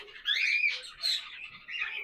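A pet lovebird gives harsh, shrill chattering calls close by, in three loud bursts with short dips between them.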